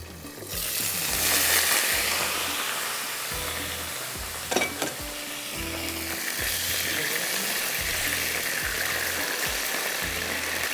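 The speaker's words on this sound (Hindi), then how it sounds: "थोड़ा सा इसको और फ्राई कर लेती हूँ।" Carrots and potatoes fry in a pan with a continuous sizzle, steady and close, marked by a few soft stirring knocks and a low repeating hum beneath.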